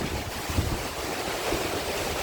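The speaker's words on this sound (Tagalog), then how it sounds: "Lakas na ng alon." Ocean waves wash onto a beach in Mindoro, a steady, fairly close roar of surf mixed with wind buffeting the microphone.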